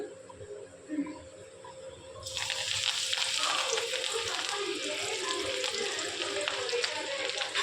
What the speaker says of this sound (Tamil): எண்ணெய் காஞ்சிருச்சு, அதில் நான் பொரிச்சு எடுத்துக்கிறேன்.